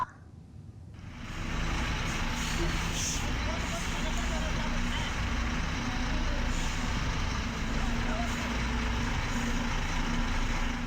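Large trucks belonging to a company drive along a village road in Konawe Selatan, a steady heavy engine rumble and road roar that builds in and holds, with a hiss like air brakes and faint voices mixed in.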